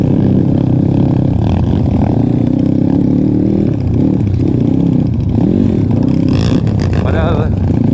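A motorcycle in second gear pulls hard on a rough rural trail in cloudy weather, its engine note loud and continuous, rising and falling through the whole stretch, with a voice talking over it.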